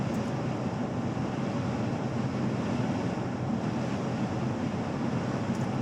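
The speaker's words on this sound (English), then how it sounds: "you can hear the wind" Steady, loud wind roars and rumbles against the microphone around a 2018 Jeep Wrangler Unlimited without letup, a constant broadband rush with no voices.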